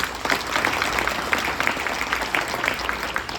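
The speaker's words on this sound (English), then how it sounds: "We can give them a round of applause, please." A luncheon audience claps in sustained applause, loud and close with dense overlapping hand claps and a few distinct individual claps standing out from the mass.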